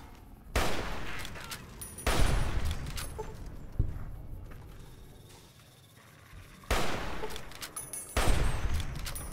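Gunfire in the video game Fallout New Vegas: several loud, sharp shots spaced a couple of seconds apart, with a steady game ambience between them and no talk.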